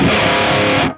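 A Two Notes ReVolt guitar amp pedal with its boost circuit pushed into harsh distortion gives a dense, loud, fizzy, saturated tone for about a second before cutting off.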